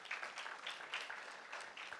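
A crowd applauds, a soft continuous patter of many hands clapping, heard from some distance and fairly faint.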